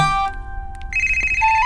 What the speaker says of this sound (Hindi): लगता है नेहा को फोन आया